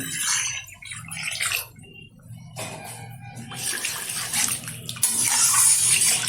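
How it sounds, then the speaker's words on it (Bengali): Water is poured into a cooking pot of egg curry with tomato, coming in uneven splashing gushes that stop and start and grow stronger toward the end, heard alone without talk. "এখন নিয়ে নেবো পরিমাণ মতো জল"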